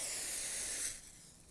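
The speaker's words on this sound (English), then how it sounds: "We're going to spray on this thing." Glass cleaner sprays onto a car window in a single faint, close hiss that fades after about a second.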